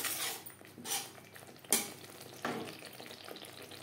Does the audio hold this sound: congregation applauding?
no